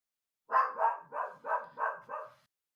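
Six evenly spaced barks from a dog, close and steady in rhythm, ending in silence, with no talking.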